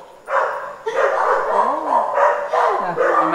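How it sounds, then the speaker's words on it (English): Several dogs at a house under construction in the Philippines bark repeatedly in bursts at neighbors walking past, close and loud, with a few whimpering yips and a voice talking over them. "imagine five dogs barking at the same time"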